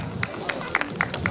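Audience at a winter customs and traditions show in Săscut clapping in quick uneven bursts, with crowd murmur and voices under it.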